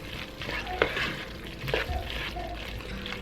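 Spinach is stirred into a pot of Nigerian plantain porridge, giving soft wet stirring and squelching strokes with a spoon knocking against the pot over a low bubbling simmer.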